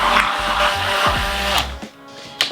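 A hand blender whirs steadily while mixing the rest of the oil into homemade mayonnaise, its motor pitch shifting as it moves up and down, then cutting out near the end.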